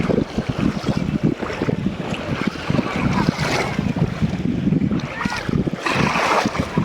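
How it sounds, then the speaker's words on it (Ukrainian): A gentle summer breeze on an Adriatic sea beach buffets the microphone in continuous gusty rushes, with faint surf and open-air ambience underneath. "є такий приємний вітерець"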